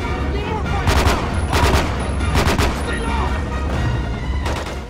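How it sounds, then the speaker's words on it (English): Short bursts of gunfire from the TND-16 assault rifle in the Quantum of Solace video game, cracking out in repeated three-round volleys over a steady background rumble of game noise. "It's a pretty standard assault rifle. It defaults to a 3-round burst."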